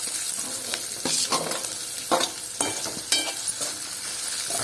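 Ginger garlic paste fries in a pan with dried red chillies, giving a close, crackling sizzle punctuated by several bursts of stirring and scraping.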